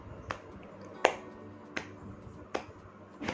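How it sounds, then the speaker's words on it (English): A single person clapping their hands with great force, sharp isolated claps about every three-quarters of a second over a quiet background, with no talking. "I will clap"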